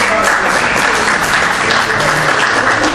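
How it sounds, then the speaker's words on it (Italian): Sustained, dense applause from an audience at a round-table meeting on Xylella containment strategy in Leverano, held steady and loud throughout with no clear voices above it. "Un applauso"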